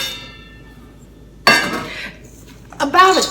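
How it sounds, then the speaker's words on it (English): Dried blueberries mixed into flour in a bowl, with a utensil scraping and clinking against the bowl in two short bursts after a quiet pause. "Mix them all in very well so every blueberry is covered with the flour."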